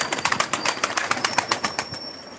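Pigeons flutter and shuffle close by while being fed in a garden, a quick irregular run of wing flaps and light pecking over faint background, with no talking.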